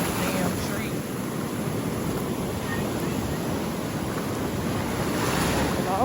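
Ocean waves at the beach, a steady full roar of surf with wind noise on the microphone, continuous and fairly loud throughout, no clear talk.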